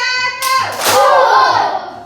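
Schoolchildren in a fourth-grade class at SDN Soro Afu clap together in a classroom clap routine, a short burst of claps following a voice calling out the count.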